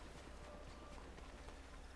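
Faint hoofbeats of a horse in the Ghost of Tsushima video game, a soft rhythmic clip-clop at a walking pace under a low ambient hum.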